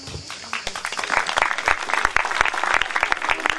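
An audience at a children's writing competition award event in Maratea breaks into applause, with dense, rapid, fairly close clapping that swells and holds steady.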